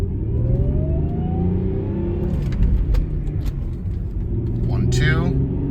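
A 1993 Ford Probe GT with a manual gearbox pulls away in first gear, its engine a low steady rumble rising slightly in pitch as the car moves off, with someone talking over it.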